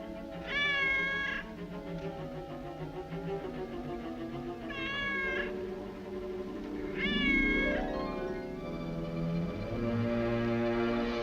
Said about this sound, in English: Lost that cat. I'd swear I put her out.